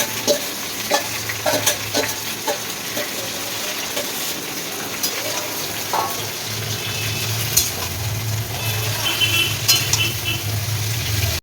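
Previously fried cauliflower and potatoes are stirred in a hot pan, producing a continuous sizzle with repeated scraping and clattering strokes close by.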